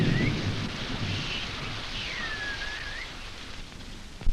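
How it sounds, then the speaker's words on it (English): Heavy tropical rain pours in a steady, dense roar with a low rumble of thunder underneath, loud and continuous with no voices. "In the tropics, rain comes swiftly and heavily, and streams may flood in a flash."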